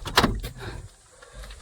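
Vehicle lock being opened by hand, a short mechanical clunk and rattle near the start followed by quieter handling noises, close and fairly loud with no talking.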